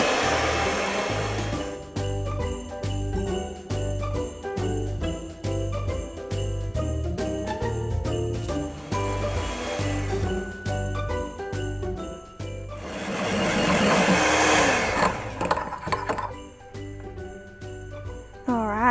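Electric mixer whipping egg whites toward stiff peaks for a 1940s Queen Pudding, a steady close motor whine with faint tinkling, swelling louder near the end.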